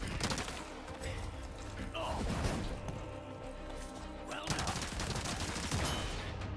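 Gunfire from the Resident Evil 4 Remake video game, with dense bursts of shots and crashing impacts running throughout over a busy game soundtrack, while a player talks over the action.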